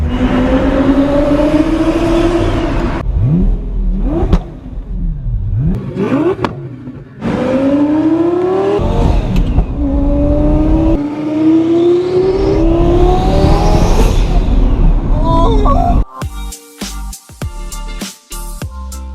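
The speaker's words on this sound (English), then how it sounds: "Today is the day we finally take the Lamborghini Gallardo Twin Turbo Beast for its first maiden voyage test drive." A 2000HP twin turbo Lamborghini Gallardo revs hard while driving, loud repeated climbing engine sweeps through gears with short drops between shifts, ending in choppy bursts and clatter.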